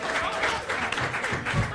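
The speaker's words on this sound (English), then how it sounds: "Let's give a round of applause again for Kim." An audience at a pitch competition reception claps for an honoree, a steady wash of applause from a mid-sized crowd lasting under two seconds, moderately loud throughout.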